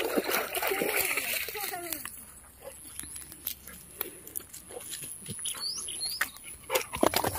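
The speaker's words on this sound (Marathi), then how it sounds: "गोल्डनने पाणी बघितल्यावरच तो पोहायला सुद्धा लागलेला आहे" Golden, a dog, swims in a reservoir's backwater, making repeated splashes and paddling sounds close by; a voice can be heard between the splashes.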